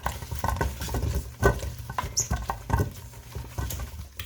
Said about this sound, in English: I'm going to just toss it in oil